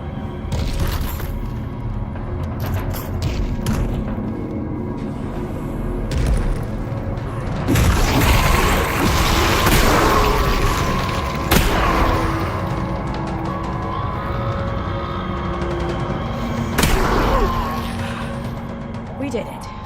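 Heavy, booming shell blasts from a gun in the virtual reality game Half-Life Alyx ring out amid a dense, loud barrage of other combat noise, with several sharp cracks spaced across the fight.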